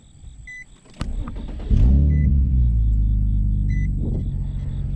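A 2007 Infiniti G35 with 194,000 miles cranks and fires at close range after a few faint chimes, then settles into a steady, deep idle rumble that carries on to the end.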